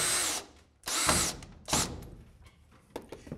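A power drill drives a 65 mm screw through a rubber-mounted acoustic clip into framing, three close, loud bursts of whirring with short gaps between, then fainter clicks and handling noise.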